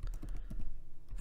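Fingers tapping out a chart title on a computer keyboard while working in Excel, a quick burst of close, light key clicks in an uneven rhythm, with no voice.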